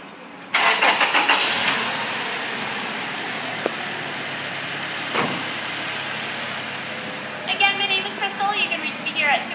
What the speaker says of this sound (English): Go ahead and pop open the hood and get it started.